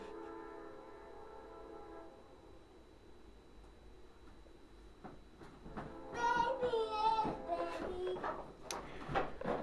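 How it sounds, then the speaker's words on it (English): Train passing near an outdoor workshop, with a low rumble building and a horn sounding in bursts toward the end, moderately loud against background noise. "Hear the train?"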